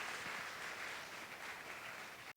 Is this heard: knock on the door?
no